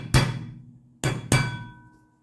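Three sharp metallic hammer taps drive brake pins through on a 1985 Mercedes 300CD: a single strike, a pause, then two quick strikes, each ringing briefly before fading, close by with no talk.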